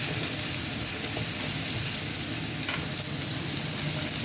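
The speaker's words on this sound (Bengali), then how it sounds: "এখানে ফ্রাই প্যানেতে সরিষার তেল দিলাম, ফ্রাই প্যানে কই মাছগুলো দিয়ে দিলাম" Koi fish frying in mustard oil in a frying pan, a loud, continuous dense sizzle and crackle heard up close without pause.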